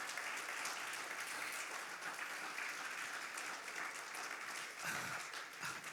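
Steady applause from a church congregation during a sermon fills the whole stretch, an even wash of clapping heard from some distance.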